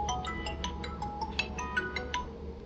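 A mobile phone rings with an incoming call from a mother, a steady run of short melodic ringtone notes playing on for several seconds at moderate volume, faint and slightly distant in a room.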